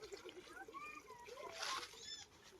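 Water is poured and splashed into bird water bowls, a faint splashing and trickling with bird chirps and voices nearby.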